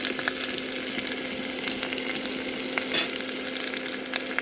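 Potatoes fry in a pan with a constant bright sizzle and a few soft stirring scrapes, close and even, with a faint steady hum underneath and no talk.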